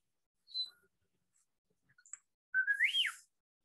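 Human whistling, a short rising-and-falling whistled phrase near the end after a couple of faint brief chirps, heard close with no talk.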